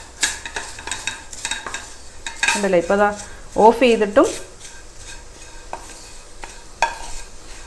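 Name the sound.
stirring dry-roasted coconut and spices in a pan for kadala curry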